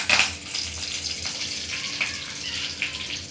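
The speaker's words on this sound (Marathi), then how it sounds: "तेल चांगलं तापलं की आपण यात कढीपत्ता घालूया" Curry leaves crackle and sizzle in hot oil in a kadai. A steady hiss carries a few sharp pops and spits near the start and then scattered through the rest.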